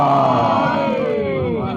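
A crowd at a Shia majlis roars back a chanted religious slogan in unison, a loud, close massed shout of many voices that swells at once and slowly fades over under two seconds.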